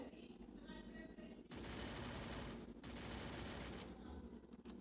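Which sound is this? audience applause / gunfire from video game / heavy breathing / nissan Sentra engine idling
gunfire from video game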